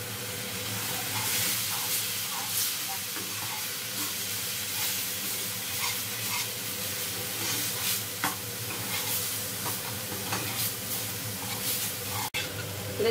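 Spice paste for Bengali-style dahi rui fries in a pan, a steady crackling sizzle with frequent rhythmic stirring scrapes throughout and one sharp knock near the end, no one talking.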